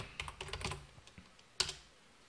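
Someone types a function name on a computer keyboard, giving a quick cluster of close keystrokes followed by a sharper single key press, heard alone and fairly quiet.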